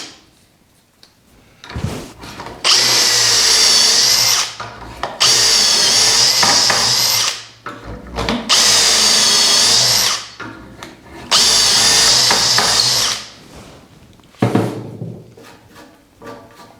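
A power drill drives screws into a raised panel piece in three long, loud whirring bursts, each several seconds, with brief pauses and handling clunks between and after.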